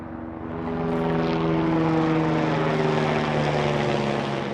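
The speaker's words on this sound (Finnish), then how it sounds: "Toivottavasti tuo helikopteri, minkä ääni kuuluu tuolla, niin ei törmää tuohon" A helicopter droning overhead, a steady loud engine hum that swells in and holds, with no talking.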